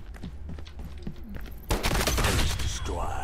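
Small pistol fire in the video game Lost Light, a loud burst of rapid close shots breaking in partway through after quieter movement sounds and continuing dense to the end.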